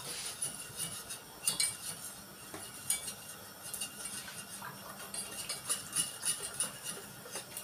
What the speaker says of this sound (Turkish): Tabii ki sürekli karıştırıyoruz ki topaklanmasın.